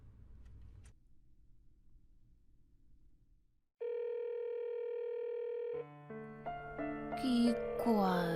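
Telephone ringback tone of an unanswered call, a loud steady tone for about two seconds after quiet low rumble, then giving way to a swelling musical sting.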